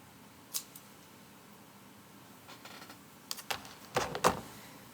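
Scissors cut through tightened yarn on a scrap blanket, giving a few soft clicks followed by a cluster of sharper snips toward the end against quiet room background.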